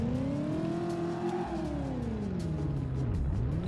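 Car engine in the Driver video game, reversing and swinging through a 180-degree turn, its steady drone bending up and down in pitch as the car backs round, close and continuous with no voices.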